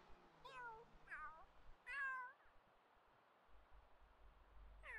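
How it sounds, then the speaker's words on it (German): Kittens meowing in The Sims 3, four short, rising-and-falling mews spaced a second or so apart over a soft background hiss, with the last one cut off at the end. "Malastros zwei Kätzchen, ne?"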